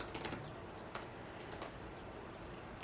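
Quiet, close keystrokes on a computer keyboard as someone types code, a few soft clicks in short bursts over a low room hum, no talking.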